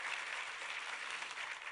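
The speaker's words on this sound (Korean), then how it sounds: "우리 2부 예배 성가대에게 또 한번 격려의 박수를 부탁합니다" A church congregation at a sixth-anniversary worship service applauds the choir with a steady wash of clapping that holds at a fairly even level from start to finish, heard alone without voices.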